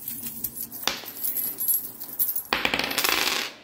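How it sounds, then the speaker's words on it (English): A handful of D&D dice rattle and clatter in two bursts, close and fairly quiet, a short shake followed by a longer rolling jangle, with no voices. "if you are at all a D&D person, you will understand what these dice are, but they're so beautiful, and I just love how they sound when you shake them"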